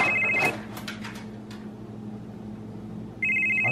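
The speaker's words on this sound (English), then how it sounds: "That's my phone." A telephone rings in a home, with two loud electronic ring bursts at the start and end and a quieter stretch between them, and no talking.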